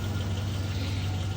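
A truck's engine idles steadily right after being started at a roadside breakdown, a continuous low rumble, close and even, with no voices.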